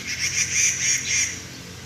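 Several bright, high-pitched squirrel calls repeat in quick succession, fairly close, over a low background hum.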